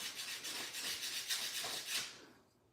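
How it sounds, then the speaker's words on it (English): Sandpaper rubs briskly back and forth over a hand-whittled wooden spoon, a close, quiet rasping in quick, regular strokes that stops abruptly at the end. "I just got done sanding it with 180 and now I'm on to 220"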